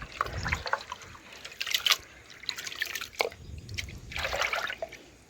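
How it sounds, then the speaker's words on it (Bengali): Rice for homemade puffed rice is swished and rinsed in a bowl of water, giving close, moderate sloshing and trickling bursts with small drips between them, no talking. "এ দেখুন আবার জল দিয়ে দিচ্ছি তিন থেকে চারবার আমি ধুয়ে নেব"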